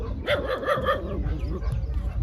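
A dog barks several times in a quick burst nearby, then the sound trails off into low background noise.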